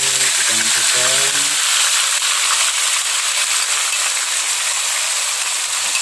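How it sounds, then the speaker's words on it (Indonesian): Blended spice paste hits hot vegetable oil, loud steady sizzling and crackling frying that fills the whole stretch, with a short burst of talk under it at the start. "Selanjutnya kita masukkan yaitu bahan bumbu yang kita blender halus."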